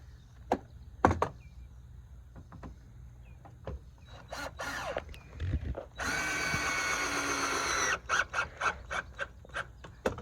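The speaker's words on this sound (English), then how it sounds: "you want to drill your holes at least an inch from the end" A power drill whirs steadily for about two seconds, drilling holes in deck boards, bracketed by sharp knocks and clatter of boards, with more taps and thuds following.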